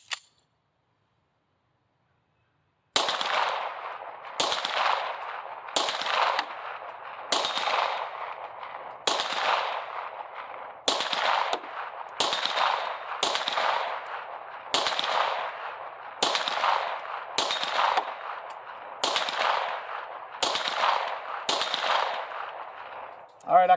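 Pistol shots from a Tisas 1911 fitted with a CZ Industries compensator, fired at a steel plate rack 25 yards away: a steady string of about a dozen sharp, loud reports at roughly one-to-two-second intervals after a brief silence.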